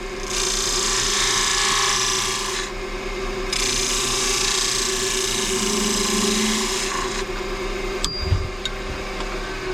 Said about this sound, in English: let's get my spindle gouge and just neaten this end up